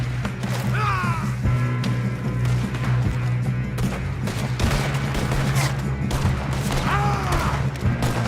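Gunfire in Red Dead Redemption 2 with a steady loud bed of shots and impacts that stays dense throughout, while voices speak over the fighting.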